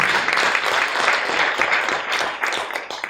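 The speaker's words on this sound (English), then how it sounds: "give him another round of applause" Audience applause fills a community association meeting, a steady dense patter of many hands clapping for about three seconds before tapering slightly at the end.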